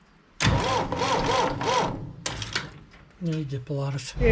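A Major tractor engine cranks on jump leads, a loud rhythmic chugging turnover that pauses and resumes, with people talking over it.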